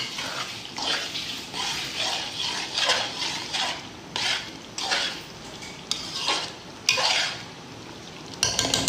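A spoon stirs arvi taro root masala with ground coconut in a metal pan, scraping and sloshing in repeated strokes with brief pauses between them, close and fairly loud, with a clink near the end and no talk.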